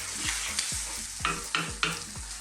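Fresh chopped tomatoes sizzling in a hot pan while a utensil scrapes and stirs them in repeated strokes, close up, with a steady frying hiss underneath and no voices.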